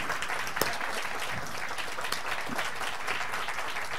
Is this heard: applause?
yes